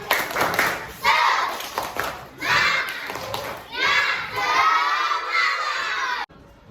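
A class of fourth-grade primary school children claps rhythmically and shouts together in bursts, loud and close, like a classroom cheer.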